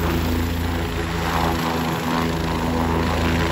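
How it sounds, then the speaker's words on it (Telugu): A helicopter arrives at the Kedarnath helipad with a steady, loud rotor and engine drone that holds evenly throughout, strong wind noise over it and no talk. "అదేనండి చాపర్ హెలికాప్టర్ వస్తుంది"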